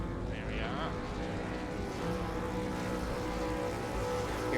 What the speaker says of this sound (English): Hearing revs rise.